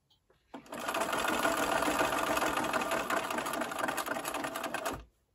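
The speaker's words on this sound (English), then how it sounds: "I'll sew about 3 stitches forward, and then I'll go back 3 stitches, and then continue forward" A sewing machine runs a continuous stitching burst while sewing a quilt seam on a LeMoyne Star block, a steady whirring rattle lasting about four seconds at close range before stopping.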